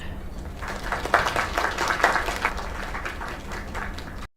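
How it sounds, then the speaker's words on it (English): A crowd applauds with steady, dense clapping that swells slightly midway, then cuts off abruptly at the end. "Another round of applause."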